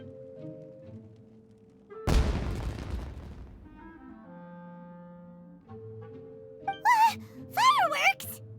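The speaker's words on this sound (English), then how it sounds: "Was that an explosion? It sounded like fireworks." Fireworks blast in a video game: one sudden loud boom with a long decaying rumble over a quiet tonal music bed, followed by sharp, fluttering character vocal sounds near the end.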